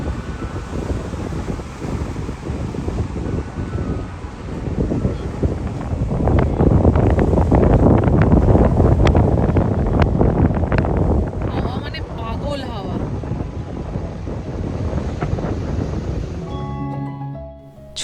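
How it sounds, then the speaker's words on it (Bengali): Strong wind buffets the microphone at Mona Vale, one of Sydney's Northern Beaches, with surf rolling in behind. The gusty roar is loud and constant and swells in the middle while a person talks over it. "বাইরে এখন খুবই হাওয়া দিচ্ছে"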